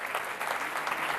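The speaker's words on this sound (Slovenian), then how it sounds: "ja, to si zaslužim aplavz" Audience applause at a tourism awards ceremony, a short burst of dense, even clapping from a hall full of people, fairly soft and steady throughout.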